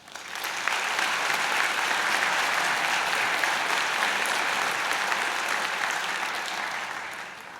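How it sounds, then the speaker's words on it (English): Graduates at a Mohawk College evening convocation ceremony break into sustained applause, a dense wash of many hands clapping that swells quickly, holds steady for several seconds, then begins to taper. "Give yourselves a round of applause."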